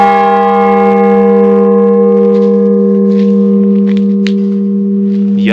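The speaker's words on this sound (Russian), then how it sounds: "можно подойти и ударить в колокол" A large Buddhist temple bell at Ivolginsky Datsan near Ulan-Ude, Buryatia, rings out with a deep, sustained hum and shimmering overtones that slowly decay, loud and close, with no voices.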